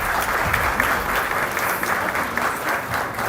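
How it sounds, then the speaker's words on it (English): A conference audience at a nuclear energy event in Nairobi applauds a speaker, producing a sustained, even roar of many hands clapping together at moderate loudness. "A round of applause to him as well."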